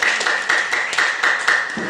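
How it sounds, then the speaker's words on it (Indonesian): Classroom of students clapping in unison, a quick rhythmic pattern of sharp claps roughly four per second, close and fairly loud. "Luar biasa. Tepuk tangan dulu,"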